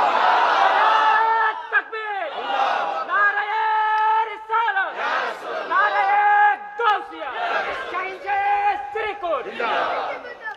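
A mosque crowd answers a preacher's call with loud, repeated takbir chanting, several swelling unison shouts in quick succession rising over a continuous mass of voices.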